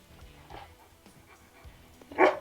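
A dog barks once, fairly loud, near the end after a stretch of quiet rustling and low background noise.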